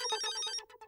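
A telephone ringtone chimes in a quick, bright repeating pattern, brief and moderately quiet, heard in a Gokuldham household scene of the sitcom Taarak Mehta Ka Ooltah Chashmah.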